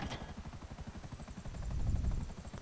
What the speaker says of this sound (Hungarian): Helikopterrel ráadásul.